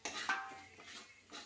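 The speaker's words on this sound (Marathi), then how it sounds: "ताट काढून बघूया आता." A metal plate used as a lid clanks as it is lifted off a pan of cooking tomato vegetable curry, one sharp ringing clink then a softer scrape and faint rattle, close and brief.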